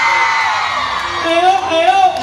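Women in a concert crowd at a merengue show at the Feria de Jáltipan, Veracruz, whooping and shouting together in loud, high-pitched cheers that rise and swell near the end.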